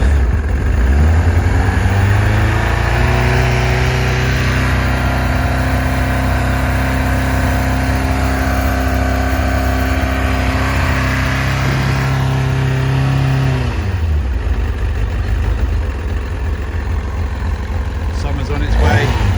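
A 1999 Kawasaki ZX-9R sports motorcycle with 12k miles warms up on a little choke, its engine loud and close, revving up steadily to a high idle and then dropping back down to a lower idle near the end.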